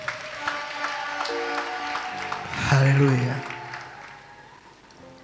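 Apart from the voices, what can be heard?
applause in church ceremony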